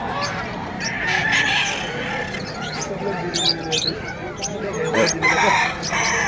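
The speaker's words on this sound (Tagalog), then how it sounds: "kita nyo yan, puro manok yan" Roosters crow repeatedly over a busy, noisy pet market background, with people talking nearby and scattered clucking throughout.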